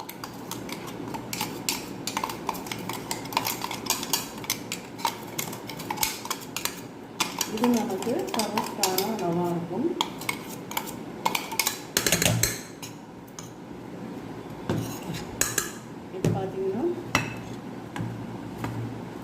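Ground mustard and salt mixture for an instant mango pickle is tipped into a bowl, with repeated metallic clinks and scrapes of a spoon against the dish in an irregular rhythm, close and fairly loud.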